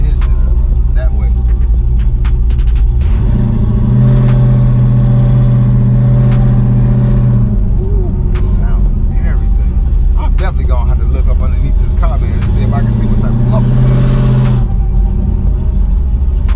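A car engine growls low and heavy while driving, rising in pitch twice as the throttle is pressed, with someone talking over the steady road rumble from inside the cabin.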